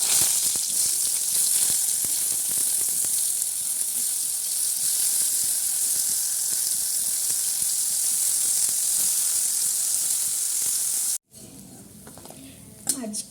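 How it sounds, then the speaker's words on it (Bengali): Brinjal slices fry in a little oil in a wok, giving a loud, steady sizzling hiss that runs on and then cuts off abruptly, followed by quieter kitchen sounds and a brief clink. "এতে আর একটুখানি তেল দিয়ে বেগুনটা ভেজে নিই"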